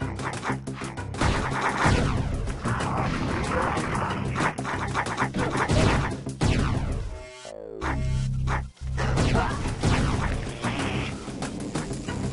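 Gunfire in the video game Oddworld: Abe's Exoddus, set in Boneworkz, comes as a loud dense barrage of rapid shots with crashing impacts. It drops out briefly midway, then resumes at full intensity.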